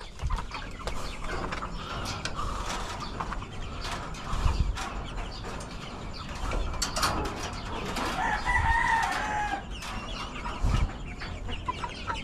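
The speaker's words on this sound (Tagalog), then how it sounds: "pakainin na rin natin tong itong mga manok natin dito sa kulungan" Decaled white and decaled brown chickens cluck and squawk steadily in a coop at feeding time, with a rooster crowing partway through, all moderately close and dense.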